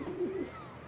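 A single pigeon gives one soft, short coo, low and throaty, close by but quiet, followed by near silence.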